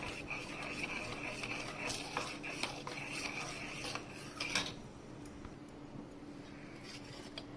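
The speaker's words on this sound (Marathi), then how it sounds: "ती आता आपण हलवून घेऊया दुधात मिक्स करून घेऊया" Spoon stirring custard powder into milk in a pot, quick repeated metallic scraping and clinking up close, then quieter for the last few seconds.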